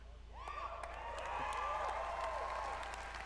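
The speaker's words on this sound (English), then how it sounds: "the audience that they paid for is cheering over them while they're trying to present" Audience at Bethesda's E3 presentation cheering and clapping, a broad crowd roar that swells and holds, with whoops and a voice talking underneath.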